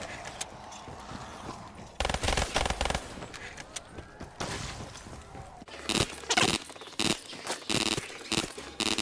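An MP40 submachine gun firing in Call of Duty Zombies on Kino der Toten, heard as sharp bursts of rapid shots in loud clusters among clattering game sounds, with someone talking faintly in between.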